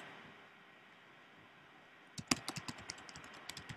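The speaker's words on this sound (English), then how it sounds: "I'm typing stuff in on my keyboard right now" Keys clatter on a computer keyboard during music production work, a quiet room tone breaking into a quick irregular burst of close, crisp clicks partway through.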